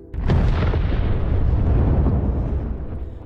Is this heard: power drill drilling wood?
no